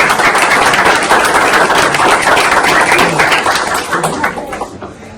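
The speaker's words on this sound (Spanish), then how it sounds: "vamos a darle un fuerte aplauso a Vianey" An audience gives loud, sustained applause for speakers at a talk, dense clapping that continues for several seconds and then fades toward the end.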